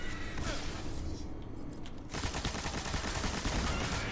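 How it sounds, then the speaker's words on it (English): Rapid machine gun bursts in the first-person shooter Destiny, during a solo Nightfall strike in the Sunless Cell, rattle in dense repeated volleys, fading briefly before a sustained loud stretch of fire. "go ahead and pull out that machine gun."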